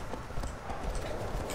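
Horse hooves clip-clopping in Shadow of the Colossus, a quick, steady run of clopping hoofbeats near and moderately loud, with no other sound competing.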